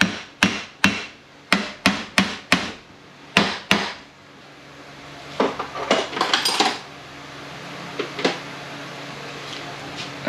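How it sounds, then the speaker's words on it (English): A hammer strikes a metal part during disassembly, about a dozen sharp ringing whacks in quick rhythm, followed by lighter clinks and rattling. "I just give this a couple whacks"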